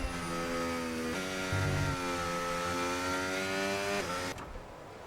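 F1 25 race car in a video game, driven back to the pits during qualifying at the Saudi Arabia GP, its engine droning steadily with shifting pitch before dropping away near the end.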